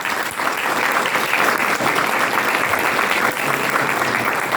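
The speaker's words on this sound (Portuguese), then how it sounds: "vou antecipadamente pedir uma salva de palmas para esse palestrante que está aqui ao meu lado" Steady, dense applause from an audience greeting a guest lecturer at the opening session of an Amazonian literature event, continuous and fairly loud throughout with no talk.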